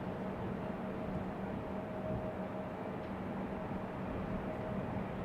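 An American Airlines airliner arriving from Dallas-Fort Worth makes a steady, distant, broadband jet rumble, continuous and even throughout.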